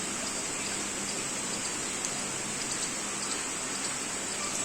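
Heavy rain falls steadily as an even, constant hiss throughout, with no voices or other distinct sounds.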